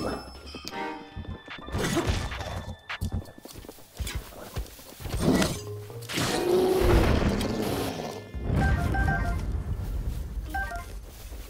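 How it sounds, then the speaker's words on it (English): Horse hooves clip-clopping and a brief whinny from Breath of the Wild, with a voice talking over the game's hoofbeats and scattered thuds. "Horse!"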